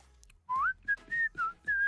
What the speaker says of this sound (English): Do you know how to whistle?